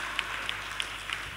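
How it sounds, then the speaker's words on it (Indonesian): An audience at a school graduation farewell for SMP IT Tunas Harapan Ilahi students claps in a steady, distant-sounding wash of applause that stays even and moderately quiet throughout. "Tepuk tangan sekali lagi Bapak Ibu untuk putra-putri kita."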